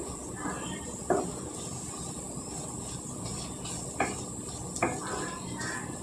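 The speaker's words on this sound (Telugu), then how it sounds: "కలుపుకుంటే బాగా ఎగుతాయండి. అన్నీ సమానంగా ఎగుతాయి." Green beans frying in a pan for a spicy Telugu-style beans fry, stirred with a utensil: soft steady sizzle under a few sharp clinks of metal against the pan at scattered moments, close and fairly quiet.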